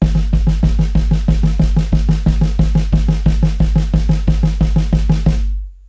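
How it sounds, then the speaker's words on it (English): Drum kit playing a single stroke roll as even 16th notes on the snare over a repeating bass-drum foot ostinato, close, loud and steady, then stopping. "So here, we can take the single stroke roll, play it as 16th notes, and then add that ostinato."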